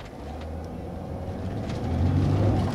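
A car shifted from neutral back into drive rolls forward with its wheel spinning: a steady low engine and road rumble that swells louder toward the end, with no talking.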